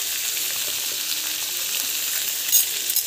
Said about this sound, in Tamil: ஸோ வெங்காயம், பச்சை மிளகாய் ரெண்டுக்கு போட்டுடலாம்